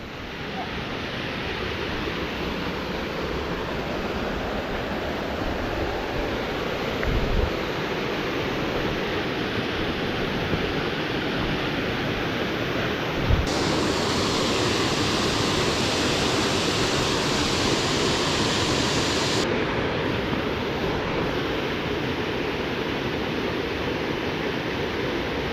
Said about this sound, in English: That's a pretty nice little waterfall.